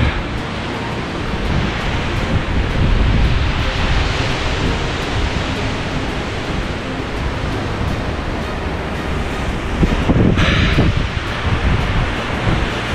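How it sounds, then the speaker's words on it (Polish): Strong, steady wind roars across an exposed winter hilltop, buffeting the microphone with broad, continuous rumbling gusts that swell slightly around the end; no voices are heard. "coraz bardziej wieje."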